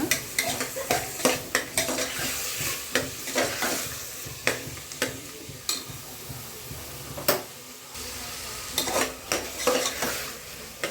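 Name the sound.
vegetables frying and being stirred in a pan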